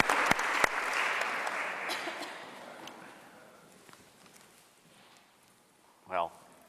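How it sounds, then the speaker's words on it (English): An audience breaks into applause for Mark at a university event, loud at first and then thinning out over several seconds. Scattered claps linger, and a short voice is heard near the end. "Round of applause for Mark"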